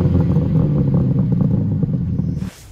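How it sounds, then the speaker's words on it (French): A BMW M3 Touring with four exhaust tailpipes gives off a loud, deep, rumbling exhaust note that throbs steadily close by, then cuts off abruptly near the end and leaves a brief airy hiss. "surtout ces 4 sorties d'échappement. D'ailleurs, je vous propose d'écouter la sonorité."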